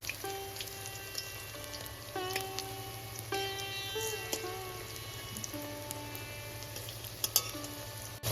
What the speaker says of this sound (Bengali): আর দেখো একটু ছড়িয়ে ছড়িয়ে দিয়েছি বলে চতুর্দিক কিন্তু খুব সুন্দর করে ভাজাটা হচ্ছে